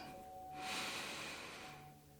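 A single slow, audible breath during a yoga session, a soft airy exhale swelling and fading over about two seconds, close and quiet, with no talk.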